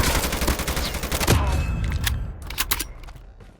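Rapid gunfire bursts in the mobile shooter game Call of Duty Mobile, a dense fusillade of shots that thins into a few scattered cracks and fades toward the end.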